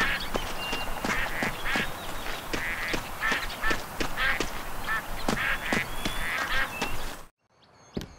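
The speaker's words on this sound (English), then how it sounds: "Try hunting some ducks." Ducks in the video game Duck Dynasty quack repeatedly in a dense, overlapping chorus of loud, nasal calls close by, continuing for about seven seconds before cutting off abruptly into near silence.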